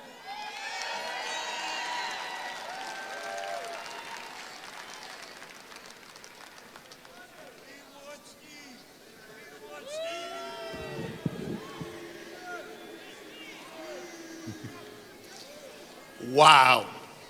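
A large political rally crowd in Manchester, New Hampshire, cheering and shouting throughout, rising to a loud swell near the end, with a voice speaking over the noise.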